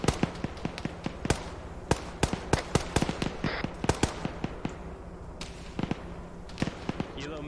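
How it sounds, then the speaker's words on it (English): Flares launched from a helicopter in the Arma military video game during a Takistan campaign, heard as a rapid irregular series of sharp popping bursts, some clustered, others spaced, fairly close with a low background rumble. "Flares."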